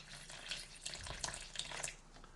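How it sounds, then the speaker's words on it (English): Four ounces of water poured into a sourdough starter on a kitchen scale, a soft continuous splashing trickle, close but quiet, with no talking over it. "We're going to put in additional 4 ounces of water."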